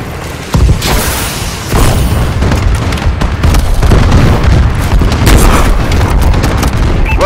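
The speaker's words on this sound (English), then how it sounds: "Friendly bombing run clearing the way." Bombing run explosions in Call of Duty: Advanced Warfare boom loudly one after another, blending into a dense, continuous rumble of blasts and crackling bursts that lasts throughout.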